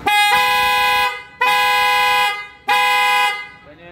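Three long, loud car horn blasts sounding low and high tones together, each lasting about a second with short gaps between them.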